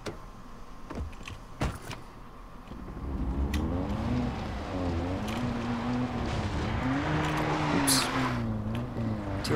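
A car drives in Far Cry 3, its engine revving up and wavering in pitch as it speeds over rough ground, with a few knocks and clunks early on.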